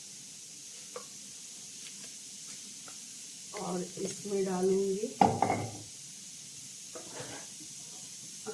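Bay leaf goes into hot mustard oil, giving a short burst of crackling sizzle and pan clatter midway through, close and moderately loud, with someone speaking briefly before and between.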